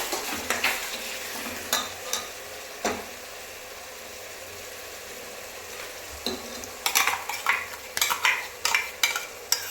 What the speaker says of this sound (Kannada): ನಂತರ ಶುಂಠಿ ಬೆಳ್ಳುಳ್ಳಿ ಪೇಸ್ಟು, ಮೆಣಸಿನ್ಕಾಯಿ, ಕೆಂಪು ಮೆಣಸಿನ್ಕಾಯಿ ಫ್ರೈ ಮಾಡಬೇಕು. ಫ್ರೈ ಆಗಬೇಕು ಎಣ್ಣೆ.